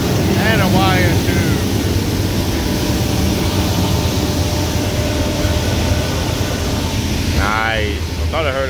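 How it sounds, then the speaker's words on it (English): On a loaded CSX coal train, an EMD SD70MAC locomotive works hard with a steady supercharger whine inside a loud broad roar of engine and wind. Brief voices are heard near the start and end. "I thought I heard a Mac sound like that supercharger whine"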